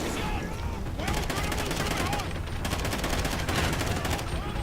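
Bursts of automatic gunfire in the video game Call of Duty Ghosts, rapid rattling shots in several clustered volleys over a few seconds, loud and dense with a constant noisy backdrop.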